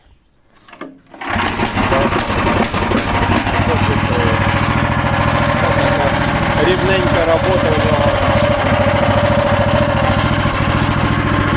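After a second of near silence a mini loader's electric-start engine, choke closed, sputters to life and settles into a steady, buzzy idle that continues throughout; a voice speaks briefly.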